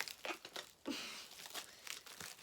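Parcel packaging crinkles and rustles as someone struggles to open it: a string of short, close, crackling bursts with brief pauses between, fairly quiet and without talk.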